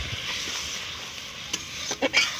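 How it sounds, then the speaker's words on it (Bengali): Onion paste with ginger, garlic and green chilli paste plus spices stirred and frying in a pan for prawn malai curry, a soft steady sizzle with a few brief scraping clinks of the spoon near the end. "তো ভালো করে আমি নেড়ে নেব।"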